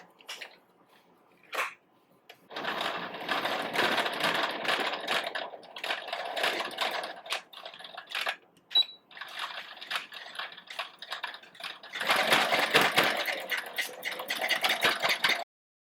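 A sewing machine stitches a canvas handbag in rapid mechanical bursts, with a short blip near the start, a long run, brief pauses, then another loud run close by.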